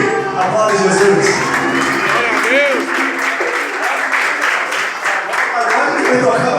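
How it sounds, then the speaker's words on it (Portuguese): A church congregation at a samba worship service breaks into loud, sustained applause with cheering, the dense clapping filling the room close by for several seconds. "Aplaude Jesus."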